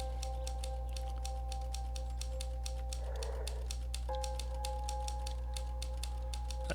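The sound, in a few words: typewriter typing, from the video game The Novelist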